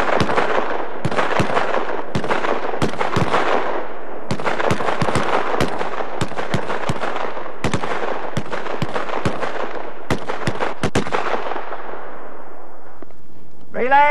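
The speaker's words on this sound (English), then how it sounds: "At your own target, in your own time, in single rounds, fire!" Pistol shots fired in single rounds by several shooters on a 100 m outdoor military range, a steady scattered series of sharp, loud cracks with short echoes, some overlapping.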